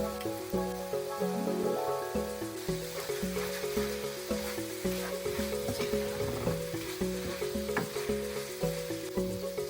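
Curry leaves sizzle steadily in hot oil for a mutton liver fry, a close, crackling hiss that runs on throughout, beneath a repeating musical backing.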